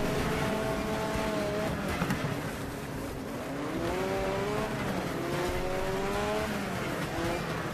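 Racing car engines in the demolition racing game Wreckfest whine and rise in pitch over squealing tires, a steady loud pack of cars heard alone without talk.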